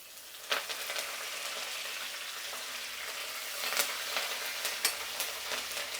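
Cashews and curry leaves frying in hot oil, a dense continuous sizzle with sharper crackles and pops at intervals, close up and moderately loud, with no voices.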